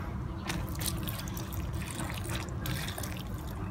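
Grape seedlings being watered until the soil is saturated, a soft continuous trickle and splash of water pouring onto the soil, close and steady.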